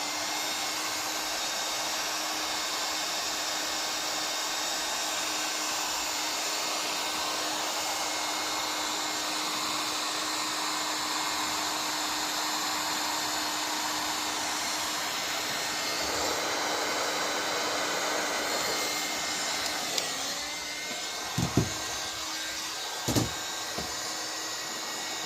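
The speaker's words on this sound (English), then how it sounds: "Turn the heater on a little bit more, keep it nice and warm." A heater blows steady, broadband airflow into an RC nitro engine on a Mugen MBX8TR with a Nova 24 T6R motor, warming it before startup; the constant whooshing hum runs throughout with a few brief knocks near the end.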